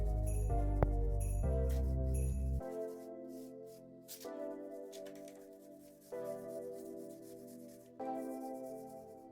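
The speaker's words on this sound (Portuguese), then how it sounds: "estou passando uma escova de aço para tirar a areia que fica entre os blocos" Steel wire brush rubbing and scraping loose sand from the joints between wall blocks after crumbling render is removed, a steady close abrasive scrubbing in repeated strokes, with no talk.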